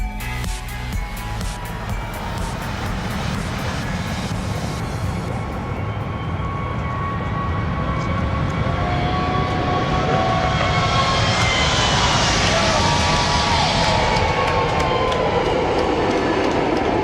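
Boeing 737 MAX 8 airliner jet engines roar loudly and steadily on its first flight, a broad continuous rumble with a rising whine and a sweeping tone as the aircraft passes nearby.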